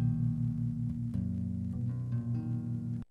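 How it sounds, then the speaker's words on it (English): Major pop chords played on electric bass guitar in a pop shuffle style, sounding as steady, sustained low-register notes that change a few times, with a brief drop near the end. "That's the sound of a pop chord,"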